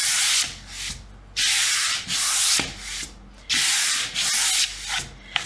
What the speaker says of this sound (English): So I'm gonna go right through them with a 60 grit.